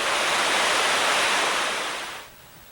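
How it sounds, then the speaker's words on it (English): The Kicking Horse River rushes through Yoho National Park with a loud, steady, broad roar of fast-moving water. The sound drops off sharply near the end. "This is another view of the Kicking Horse River, and we're in Yoho National Park."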